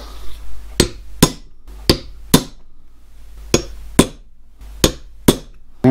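Repeated sharp metallic hammer strikes on a standard punch opening out holes in valve gear lifting links for a 5-inch gauge model locomotive, about ten blows in an uneven rhythm, close and ringing over a low background hum.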